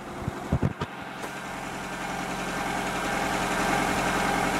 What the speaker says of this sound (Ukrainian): Включаю вентилятор.